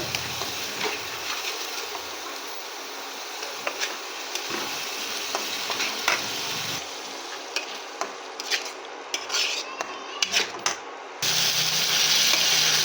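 Spice masala with tomato paste fries and sizzles in hot oil while being stirred for an egg and potato curry. A steady hiss runs throughout, broken by scraping spatula strokes and clinks, and it grows louder toward the end.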